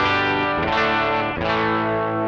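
Electric guitar through a NUX Cerberus with the preamp engaged gives a brief, thick, distorted chord that rings out loud and sustained.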